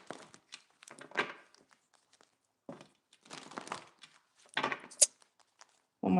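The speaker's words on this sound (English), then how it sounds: "One more shuffle." A tarot deck being shuffled by hand, with intermittent bursts of papery card riffling and crinkling separated by pauses, close and fairly quiet, ending in a louder snap.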